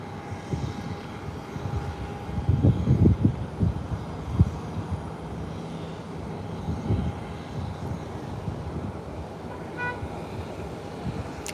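A Twin Otter propeller aircraft rumbles at an airport stand in a low, uneven drone, with a few louder thumping swells early on before it settles into a steadier background hum.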